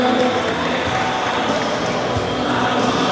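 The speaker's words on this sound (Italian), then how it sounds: "Applausi ai due pugili" Audience applause for two boxers leaving the ring after an amateur boxing bout in San Giovanni Lupatoto, a dense, steady wash of clapping and crowd noise that stays loud and even throughout.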